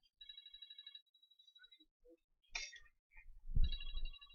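A phone rings with an incoming call during an iPhone 6 repair, giving a rhythmic electronic ringtone of repeated pulsing tones, loud and close, with brief handling noises between bursts before the ringing resumes.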